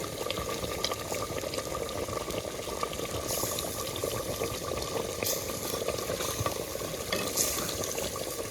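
Meat curry bubbles and sizzles steadily in a clay pot, a dense continuous simmer heard up close, with occasional brief brighter scrapes from stirring and no voices.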